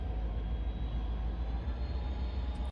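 A train rumbles past close by in a steady, loud, continuous roar with low-end rumble and a faint high whine, cutting off abruptly at the end.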